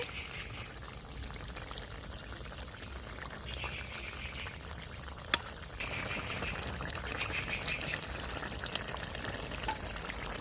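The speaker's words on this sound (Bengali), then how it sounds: "তো মাছটা দিয়ে কিছুক্ষণ ফুটিয়ে নেব।" Fish simmering in a pan of bubbling curry gravy gives a steady, close, gentle sizzle and bubbling with occasional soft clicks and pops, with no talk.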